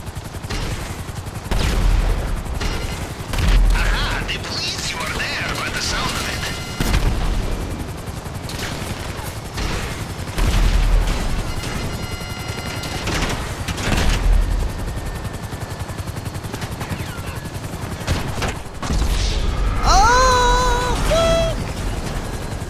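Rockets and gunfire blasting in a video game, with repeated loud bursts and booms spread throughout, dense explosive rumble underneath and a whistling, whining effect near the end.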